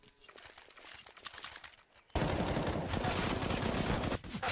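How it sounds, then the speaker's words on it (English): USP pistol fire in a Counter-Strike match on the Inferno map, rapid gunshots starting faintly, then a loud sustained stretch of rapid firing. "He really just kept shooting him."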